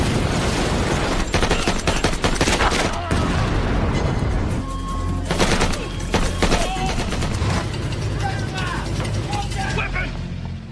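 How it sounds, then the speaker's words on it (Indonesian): Gunfire crackles through a film shootout after a car explodes, with rapid repeated shots and mechanical clatter, loud and dense, over a noisy soundtrack. "mobil Sophia meledak dan aksi baku tembak-menembak itu pun terjadi"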